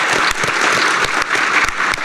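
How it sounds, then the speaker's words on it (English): A PAX East panel audience on Nightdive Studios breaks into dense, continuous applause, many hands clapping close and loud for the whole short stretch. "Can we get a round of applause for Nightdive?"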